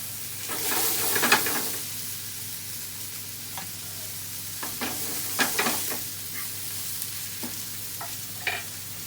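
Steady sizzling of onions and mushrooms frying in a pan, a constant crackle with occasional louder pops and stirring scrapes, close by and without talk.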